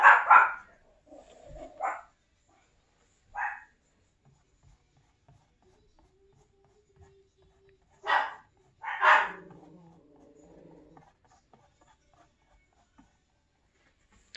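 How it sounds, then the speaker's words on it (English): Dogs bark in a home, set off by a doorbell on the television, a few loud, close bursts of barking separated by long quiet gaps. "it's a doorbell on the television they're barking at."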